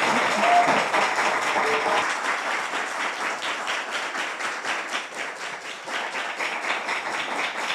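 An audience at a singing competition applauds a singer with dense, sustained clapping that carries on steadily and evenly throughout, with no pauses or single claps standing out.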